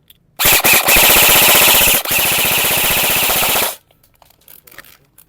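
An E&C AEG airsoft rifle fires on full auto in two loud, close bursts of rapid, evenly spaced shots, separated by a brief pause, then stops into quiet with faint handling clicks.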